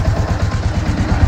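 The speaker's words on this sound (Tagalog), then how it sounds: "smooth na yung tunog ng ating motor na bagong chinsil" A Yamaha Sniper 155 motorcycle engine idles just after an oil change, a close, steady low rumble with a regular pulsing beat and no speech over it.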